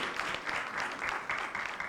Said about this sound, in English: give Dr. Hewling a round of applause for her dynamic presentation